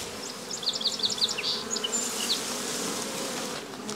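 Bees swarm and buzz around the entrance of a backyard beehive in its first year, a steady close hum with sharper passes of individual bees zipping by near the microphone, no talking.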